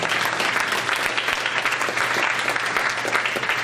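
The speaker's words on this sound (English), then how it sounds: "So let's give Dr. Gilson a round of applause." Audience applause for Dr. Gilson at the Bridgeton High School Alumni Hall of Fame 2015 ceremony, a dense, steady wash of clapping from a sizable crowd that carries through without a break.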